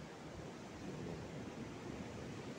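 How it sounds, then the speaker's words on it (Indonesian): Ocean waves roll onto the beach at Pelabuhan Ratu, Sukabumi, as a steady, faint broadband roar with no talking. "suasananya bukan musik lagi teman-teman, deru ombak teman-teman ya"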